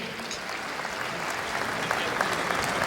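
Steady applause from an audience at a Sanatan Hindu Mahotsav gathering in Talkatora, Delhi, a dense continuous patter of many hands clapping that holds throughout with no pause.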